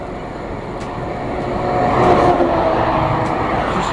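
Road traffic on a village road goes by, a broad rumble of a passing vehicle that swells toward the middle and stays fairly steady, with no talking.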